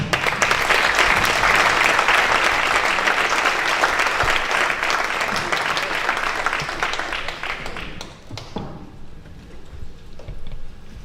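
Audience applause fills a Paralympic sports gala hall in Veneto, a dense, loud wash of clapping that holds steady for about eight seconds before thinning into scattered claps.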